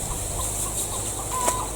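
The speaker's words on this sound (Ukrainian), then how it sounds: "курочка в сусідів." A chicken clucks softly a few times against a steady outdoor background hiss, fairly distant and not very loud.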